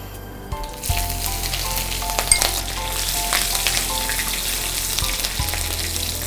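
Green chili hits hot oil already crackling with cumin seeds and bay leaf, a sharp burst of sizzling that settles into steady close frying, with no voices.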